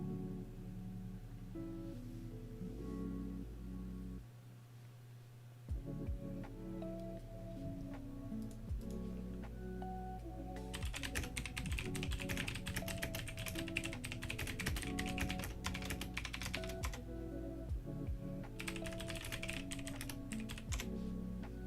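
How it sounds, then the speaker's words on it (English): Steady typing on a computer keyboard over a long stretch, with dense bursts of rapid key clicks layered over background music and a constant low hum, with no talking. "Alright, done typing there."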